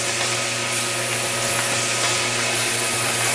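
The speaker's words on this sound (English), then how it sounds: "And if I speed it up, the feeder speeds up." A D&K feeder runs as a steady, loud mechanical whir and drone, holding an even level throughout with no voices.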